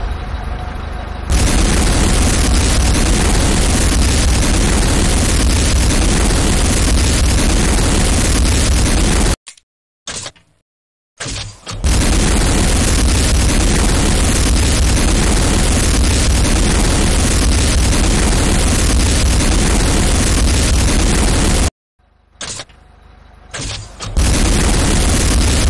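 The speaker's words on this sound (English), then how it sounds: "GDI advanced guard tower destroyed" Explosions as a GDI advanced guard tower is destroyed in the Renegade video game: a dense, continuous roar of booming blasts fills nearly the whole stretch, broken by two brief silent gaps.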